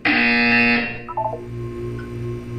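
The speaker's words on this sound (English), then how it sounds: "You will hear a buzzer." Portal 2 buzzer in a test chamber: a loud, sustained electronic buzzer tone that fades after about a second into a short run of descending beeps over a lingering low hum, with no voices.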